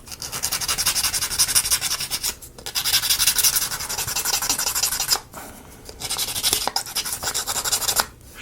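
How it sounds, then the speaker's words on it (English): Sandpaper rubbed over a wooden part of a UGEARS Tourbillon table clock model, a loud steady scratchy rasp in long back-and-forth strokes with a few brief pauses and no talk. "just going to cut it down as close as I can get it and sand it down."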